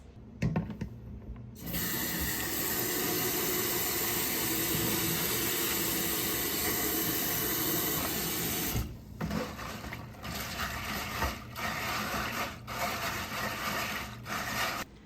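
Running water pours over dried white navy beans in a container, a broad steady rush lasting several seconds, then becoming more broken and uneven as the beans are swirled and rinsed.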